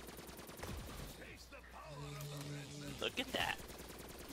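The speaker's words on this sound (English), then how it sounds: "It's still a light machine gun though, it takes a while." Light machine gun fire in a video game, rapid bursts of shots at the start and again near the end, with players talking and a tonal game sound in between.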